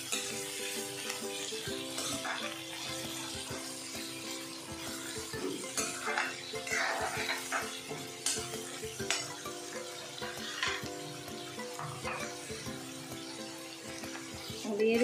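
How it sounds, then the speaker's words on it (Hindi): Green onions stir-fried briefly in a pan for Indian chicken chilli: a light sizzle with frequent scraping and clinking of a utensil against the pan, over a steady background hum. "हरी प्याज को हम थोड़ा सा ही ऐड करेंगे, भून लेते हैं"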